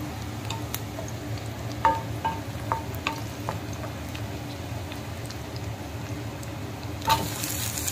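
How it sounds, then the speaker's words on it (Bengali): Chopped tomatoes frying in a pan for chicken curry, a soft steady sizzle with occasional stirring clinks and scrapes, fairly faint and alone without talk. "এবার আমি অ্যাড করে দিলাম কুচুনো টমেটো কুচি।"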